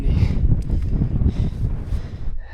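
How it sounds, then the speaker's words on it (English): Wind on an alpine mountain front on a warm, sunny day, steady gusty buffeting rumbling across the microphone, loud and close for the whole stretch, with no speech. "it is windy."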